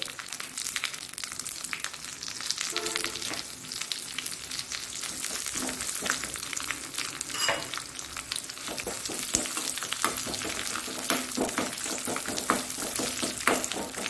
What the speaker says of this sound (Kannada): ಸ್ವಲ್ಪ ಕರಿಬೇವಿನ ಸೊಪ್ಪು, ಅದರೊಟ್ಟಿಗೆ ಈ ಒಂದು ಸಾಸಿವೆ ಕೊನೆಗೆ ಹಾಕೊಳ್ತಿದ್ದೇನೆ. ಇದು ಪಟ್ಟ ಹೇಳ್ತದೆ ಅದು.